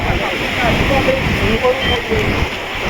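Sea waves roll in and break against the seafront at Marine Drive, Mumbai, under light rain, making a steady, dense roar of surf and spray that runs unbroken throughout, with faint voices mixed in.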